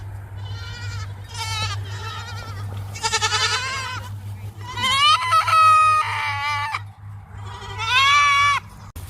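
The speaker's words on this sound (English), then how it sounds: "we are done feeding these baby goats" Baby goats bleat repeatedly during bottle feeding, a series of loud, wavering, high-pitched cries in short bursts over a steady low hum, with no talking.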